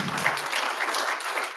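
An audience at a membership meeting breaks into steady, dense applause that holds at an even level throughout.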